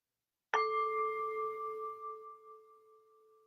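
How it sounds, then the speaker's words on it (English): A single meditation bell is struck once after a moment of silence, its clear tone ringing out and slowly fading over several seconds. "And I'll begin by ringing the bell."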